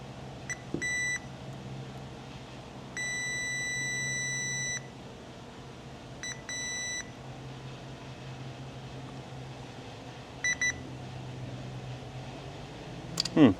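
A multimeter on a continuity test gives several short high beeps and one longer steady tone, all over a low background hum.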